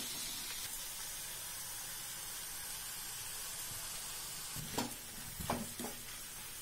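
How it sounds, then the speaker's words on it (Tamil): Ground tomato juice sautés in a pan for a Tamil boiled-egg masala, a soft, quiet sizzle with a few brief scraping stirs near the end. "தக்காளி ஜூஸ் எடுத்துட்டு அரைஞ்சி வச்சது. ஒரு நிமிஷம் வதங்கட்டும்."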